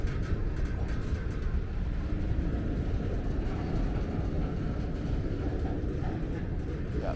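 A heavy freight train of more than 100 railcars stalls while climbing a hill on the mainline, its locomotives laboring in a loud, steady, continuous rumble with no pauses throughout.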